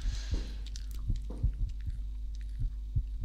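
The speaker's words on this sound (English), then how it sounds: "I don't like the heartbeat." A throbbing heartbeat pulses low and steady through a horror video game's basement scene, regular thumps roughly every half second with faint scraping and rustles above it, no talk.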